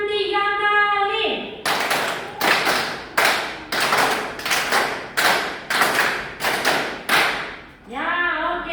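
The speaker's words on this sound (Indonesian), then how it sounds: "Tepuk tangan 3 kali." A class of children clapping hands in unison in a classroom, a run of about nine loud, evenly spaced group claps, with a teacher's voice speaking before and after.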